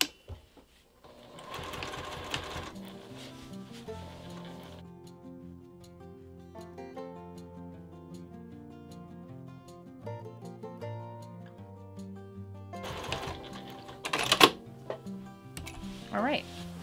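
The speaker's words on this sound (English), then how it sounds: "put this under your machine, and you're going to start sewing following that same line of stitching" A home sewing machine stitches a binding strip onto a fabric bucket bag, its needle motor running in steady whirring bursts with pauses between runs, and a few sharp clicks and clatters near the end.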